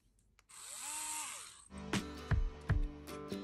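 A small handheld WORX electric precision screwdriver whirs steadily for about a second close to the mic, then stops, followed by a few sharp clicks and knocks of handling.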